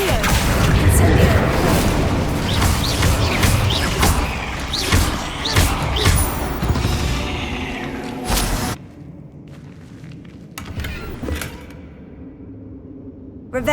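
Spells are cast in the Hogwarts Legacy video game, with fire and blasting spells among them, sounding as a dense stream of booms, thuds and whooshes that suddenly drops to quieter scattered impacts, with speech mixed in.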